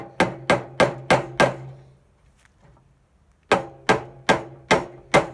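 Sharp hammer blows drive 16-inch nails into wood studs for a greenhouse frame in two quick bursts of five, evenly spaced, with a short quiet gap between them; close and loud.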